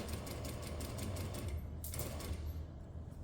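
Sewing machine stitching a half-inch seam allowance on a zipper seam with a back stitch, a steady close mechanical whir with rapid needle pulses that briefly pauses and restarts.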